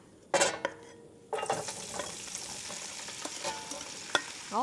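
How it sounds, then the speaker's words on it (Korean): Seasoned lotus root hitting hot cooking oil in a frying pan, bursting into a loud sizzle that keeps going under light clinks and stirring scrapes. "요렇게 연근을 기름에다가 많이 볶아줘야 연근이 굉장히 윤기가 나면서 아주 짭조름하게 조려지거든요."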